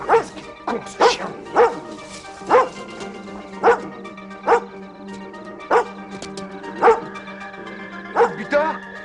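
A dog barks in a 1988 French thriller, about a dozen loud, evenly spaced barks in a steady rhythm over a low hum, close by and clear.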